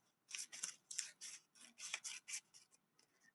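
Scissors snip out a paper fraction strip in a quick series of about ten crisp close cuts, some in rapid pairs, with no talk.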